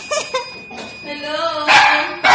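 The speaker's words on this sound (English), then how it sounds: "The dogs!" Dogs barking at a residence: a few sharp close barks and yips in short bursts, with louder bursts near the end and a high tone underneath.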